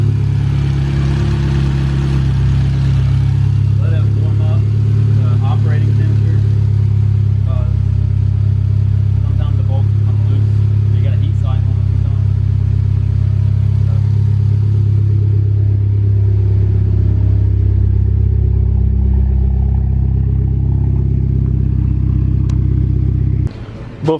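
A Mitsubishi Evo X engine with a freshly installed Sheepey intercooler idles and revs, a steady low rumble with turbo sound, heard from behind the car over roughly twenty seconds, with voices talking over it.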